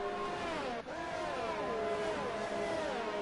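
Race cars in a Formula 3 racing video game at a Belgium circuit, with loud continuous engine roar and rising and falling pitch as several cars drive past together, with no talking.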